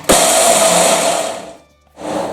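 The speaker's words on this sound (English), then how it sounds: "I'm going to pour the peanut into a blender." A kitchen blender grinds peanuts in a loud, steady whir that runs for about a second and a half, stops briefly during a pause, then starts again.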